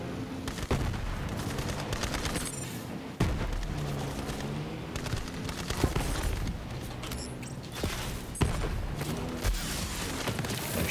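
Borderlands 3 gunfire while hijacking vehicles beneath the Meridian, with bursts of shots and booming impacts repeating over a steady game soundtrack, loud and close throughout.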